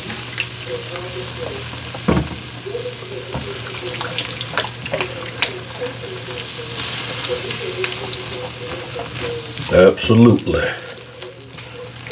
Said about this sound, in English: get that lubrication to flow through, because we don't want to generate lumps